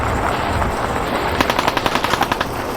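Rapid automatic gunfire in the modded survival video game Fallout 4 VR: a fast, even burst of sharp shots erupts partway through over a constant background of game noise.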